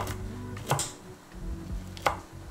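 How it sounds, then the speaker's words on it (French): Walnuts are chopped with a kitchen knife on a board, giving two crisp, close knocks of the blade separated by softer scraping and shuffling, with no talk. "On concasse nos noix."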